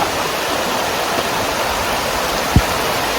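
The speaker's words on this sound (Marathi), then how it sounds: "जोरदार पावसाचं आगमन झालेलं आहे" A constant loud hiss of heavy rain, broad and unbroken, with a single dull thump near the end and no voices.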